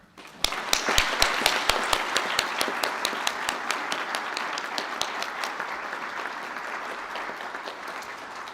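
Audience at a GMIT graduation ceremony in the Galway International Hotel gives sustained applause for Event Management graduates, opening with a few sharp nearby claps before settling into a steady, dense clapping that slowly fades.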